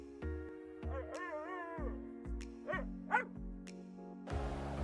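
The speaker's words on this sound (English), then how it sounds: "her little dog Toto." A small dog gives a series of high, yappy barks and whiny yips, close by, spaced irregularly over a steady background hum.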